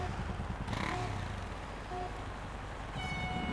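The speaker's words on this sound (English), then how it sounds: "Start the engine." A motorbike engine revs in a Nintendo Labo Variety Kit game, with a steady droning engine, a few brief horn-like tones and game clatter over a continuous mechanical rumble, no talk.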